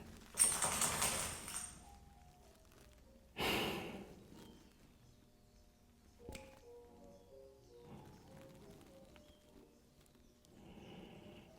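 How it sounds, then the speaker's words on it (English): Deep, slow breathing during a stress-relief yoga session, with two strong audible breaths a few seconds apart, then quieter soft rustles and faint background sounds. "Three breaths here."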